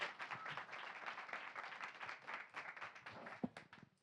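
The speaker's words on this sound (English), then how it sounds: "Everyone, round of applause for Tristan." An audience at a conversation event on humane technology applauds steadily for Tristan Harris, a dense wash of many hands clapping at a fairly even level throughout.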